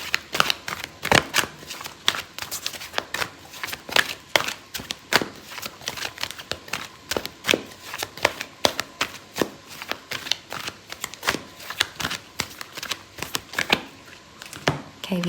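Tarot cards are shuffled by hand in a dense run of crisp, rapid flicks and riffling snaps. The slaps come close up and fairly loud, in uneven bursts, with no talking.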